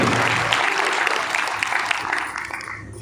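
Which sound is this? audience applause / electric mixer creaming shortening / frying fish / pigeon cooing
audience applause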